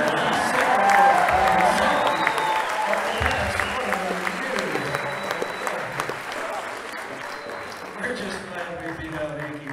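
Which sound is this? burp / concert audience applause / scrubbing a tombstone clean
concert audience applause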